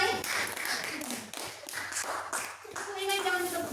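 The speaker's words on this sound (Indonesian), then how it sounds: "Tepuk tangan untuk Ima." Classroom clapping during a microteaching lesson, a short burst of hands applauding a student's correct answer, mixed with children's voices.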